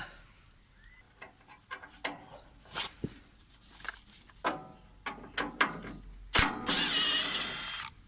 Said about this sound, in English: You normally go in with a spanner on the back end.